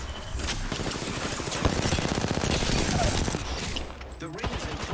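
Rapid automatic gunfire in the video game Apex Legends, a dense, loud stream of SMG shots close by, easing off briefly near the end, with in-game voice lines over it.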